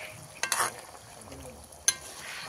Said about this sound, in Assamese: এতিয়া মই ধুনীয়াকৈ পাচলি লৰাই দিছোঁ